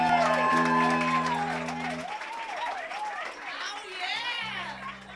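Applause and crowd noise at a holiday rock concert, clapping and cheering under a loud voice with sustained musical tones, busy and close.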